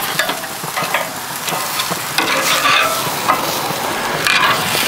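Lamb T-bone steaks sizzle steadily on a grill, a close, continuous crackle and hiss with small pops throughout and no voices.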